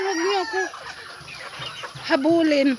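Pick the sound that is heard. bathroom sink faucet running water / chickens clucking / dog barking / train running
chickens clucking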